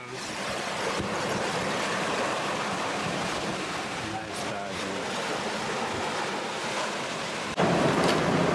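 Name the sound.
big waves and wind at sea on a sailboat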